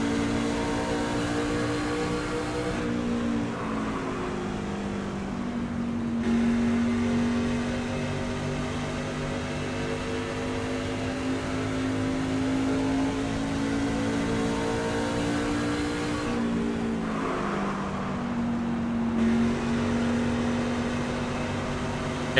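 A race car engine on a track holds a steady high drone that dips and swells twice as the throttle eases off and comes back on, loud and continuous throughout.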